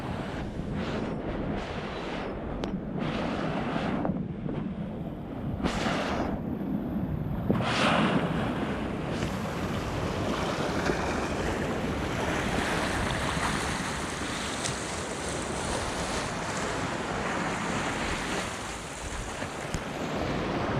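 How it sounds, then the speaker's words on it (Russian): Sea waves washing onto the shore in a steady, rolling surf, with gusts of wind buffeting the microphone and no voices. "волны."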